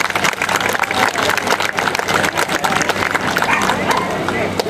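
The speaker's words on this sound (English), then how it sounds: "If we could give all those folks a round of applause." Loud, close crowd applause at an outdoor patriotic puppy parade dog contest, a dense rapid clatter of clapping that continues steadily, with voices and general bustle mixed in.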